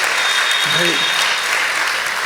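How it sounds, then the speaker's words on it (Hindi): Audience at a Hindi poetry gathering clapping loudly and continuously, a thick wash of applause close up, with a brief spoken word over it. "बजा दो ताली"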